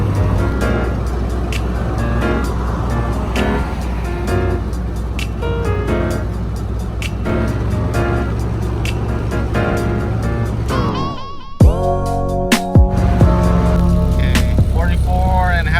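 Interior drone of a Toyota Corolla AE86 TE72 cruising on the road at 3,000 RPM, a steady engine hum with road noise, then a brief dip and some clicks and rattles near the end.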